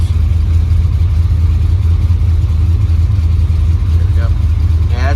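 A 1955 Chevy wagon drag car engine warms up at a steady, loud, rumbling idle with a deep low pulse, holding even throughout, with a faint squeak near the end.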